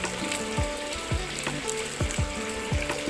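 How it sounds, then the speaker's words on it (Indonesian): Sugar, eggs and vanilla whisked by hand in a bowl, a rapid rhythmic series of close scraping strokes about twice a second over a wet, sizzly background. "Ini saya tidak menggunakan mixer ya. Ini cuma saya kocok lepas."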